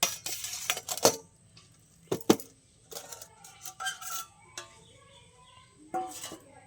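Kalakand sweet mixture is tipped from a small pot into a larger one and turned over, with a few sharp knocks and scrapes of the vessels and soft clinks between quiet pauses.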